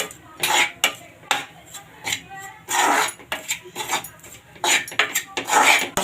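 Wheat flour being stirred in a pan for laddus gives a series of close, intermittent scraping and clinking strokes of a spoon against metal, uneven in rhythm, with quiet pauses between bursts.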